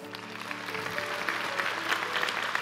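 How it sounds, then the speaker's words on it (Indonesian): Congregation applauding in a GMS church service, steady and fairly loud for a few seconds, with a low musical hum beneath the clapping. "Kita beri tepuk tangan dulu untuk mereka."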